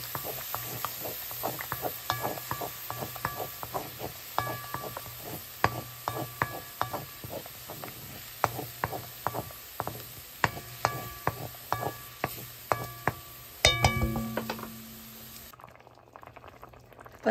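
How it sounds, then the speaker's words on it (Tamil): Ghee-sautéed tomatoes are stirred into an egg gravy in a pan: a steady run of spoon clicks and scrapes against the pot over a low sizzle, close and without speech, with a louder clatter near the end. "இப்போ தக்காளியை ஒரு கொஞ்சம் நெய்யில் போட்டு வதக்கி போட்டு அந்த முட்டை கிரேவியோடு"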